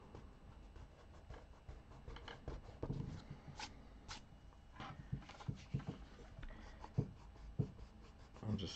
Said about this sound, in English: with my eraser, I can really clean this thing up and create a hard edge there